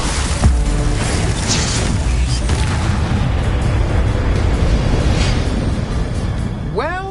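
Confringo blasting spells explode during Hogwarts Legacy combat, with a steady stream of booms and crackling bursts and a rising magical whoosh near the end.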